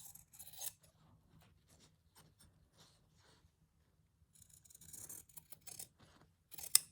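Scissors snipping through stitched fabric to trim out a rose motif for a French garden journal page, a run of faint, quiet crisp cuts in short bursts with a louder snip at the end.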